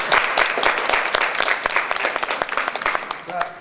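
An audience at a school commemoration event claps, dense applause that thins toward the end into scattered individual claps.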